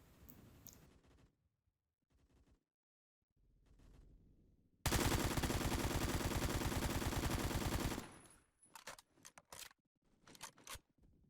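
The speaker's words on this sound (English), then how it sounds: "Here's how it performs with its stock unfolded." An AK-based rifle with its stock unfolded fires one rapid automatic burst lasting about three seconds, loud and close, set between quieter handling noises before and after.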